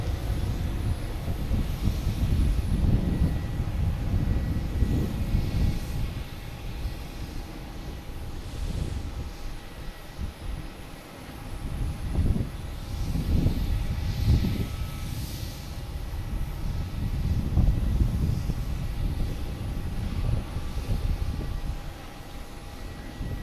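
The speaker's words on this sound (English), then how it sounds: "Now we got Spirit Airlines heading to Fort Lauderdale." A Spirit Airlines A321 airliner takes off at Boston Logan Airport, its engine roar rising and fading in the distance under heavy wind buffeting on the microphone.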